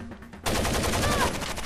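A burst of rapid automatic gunfire in Rainbow Six: Vegas 2 erupts suddenly and continues in a dense, fast rattle, loud and close.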